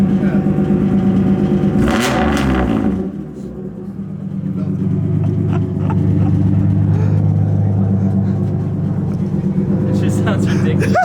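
Lexus IS300 with an HKS Carbon Ti exhaust idling after a cold start, a loud, steady low engine rumble that briefly dips and swells, with people talking over it.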